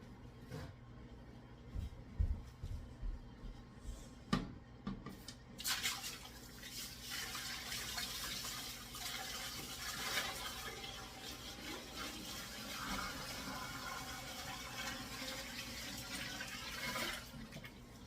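Brine is poured into a pot holding a turkey, a faint, continuous watery splash and gush that starts after a few soft knocks and runs steadily to the end, with no voices.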